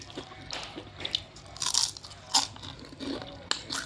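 Close, quiet bites and chewing of crunchy batter-fried wakame seaweed, with about half a dozen crisp crackles spread unevenly across a few seconds and no talking.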